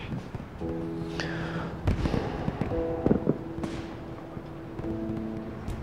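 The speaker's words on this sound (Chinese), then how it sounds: "你说外面放烟花爆竹的人" Fireworks and firecrackers set off outdoors late at night, heard from indoors as a scattered series of sharp cracks and thumps with fizzing bursts, moderately distant and not very loud, with no one talking.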